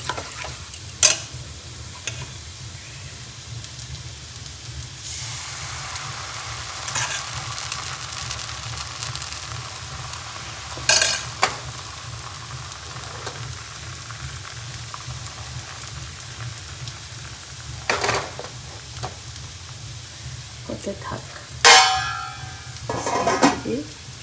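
Food fries in a pan with a steady, soft sizzle while it is stirred, and scattered scrapes and clinks of a utensil against the metal recur throughout.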